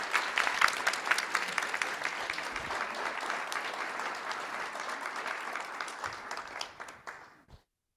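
Sustained audience applause at a school board meeting, dense and even clapping from a room full of people that holds steady for several seconds before tapering off and stopping abruptly.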